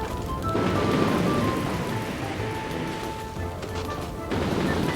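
A water spell cast in Magicka 2 gives a broad, steady rushing splash like heavy rain or surf. It holds for about four seconds, briefly eases, then swells again, with faint tonal game effects mixed in.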